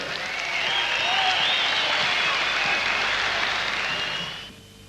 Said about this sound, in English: Ladies and gentlemen, one more round of applause for the 3 place getters.